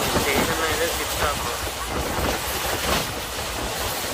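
A passenger train travelling from Vijayawada to Donakonda runs with steady, broadband rattling and rushing noise from inside the carriage, heavy with wind buffeting and no clear breaks.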